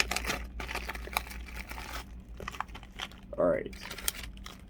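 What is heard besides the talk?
unwrapping plastic wrap from an Ancestry DNA kit box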